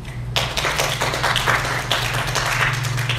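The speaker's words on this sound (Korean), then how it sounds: "우리 하나님께 영광의 박수" A church congregation claps together to glorify God after a sermon: a dense, steady wash of many hands clapping close by, with a low electrical hum underneath and no talking.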